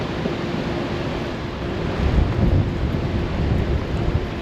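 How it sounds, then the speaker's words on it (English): Strong wind roars and buffets in heavy gusts on a boat at a lock on the Erie Canal, rumbling low and swelling louder midway, with no voices heard. "just feel the wind, It's gusting."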